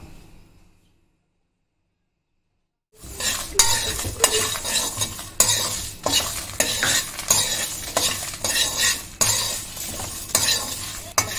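Dried red chillies and garlic cloves dry roasting with coriander seeds and cumin in a pan for fish pulusu, heard after a few seconds of silence as steady stirring and scraping with a light crackle, close and continuous, with no one talking.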